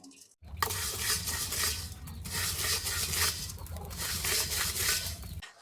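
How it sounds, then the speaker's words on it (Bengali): Flattened rice (chira) dry-roasting in a pan, stirred continuously with a utensil that gives a close, rustling, scraping clatter of dry flakes and a light sizzle, no voices. "এবার চিড়িগুলো ভেজে নিচ্ছি।"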